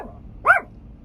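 A small Chihuahua barks once, sharp and close, at a man seen outside, with quiet surroundings before and after.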